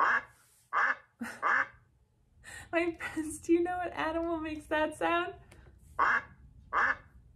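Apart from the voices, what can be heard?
duck quacking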